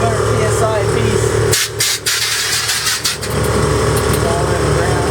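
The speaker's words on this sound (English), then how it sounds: "Those pumps are going right now" Air suspension pumps rated at 200 PSI whir on a Toyota on airbags, a steady loud mechanical hum that briefly dips and stutters mid-way, with people talking over it.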